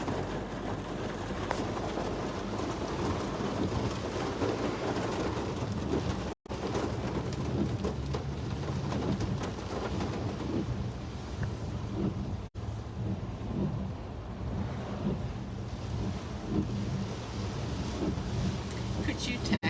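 Rain during Hurricane Idalia, a steady loud wash of rainfall and wind noise for the whole stretch with low rumbling, as people talk faintly underneath.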